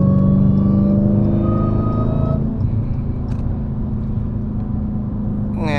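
A widebody Dodge Hellcat accelerates close by on city streets, its engine roaring with a strong, rising supercharger whine, then easing to a steady lower drone.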